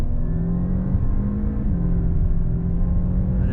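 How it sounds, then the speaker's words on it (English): A 2019 Audi A7 3.0T hatchback accelerating on the road, heard from inside the cabin as a steady, loud low engine drone and whir with a faint pitch change partway through, and no talk. "Let's just do a little acceleration test."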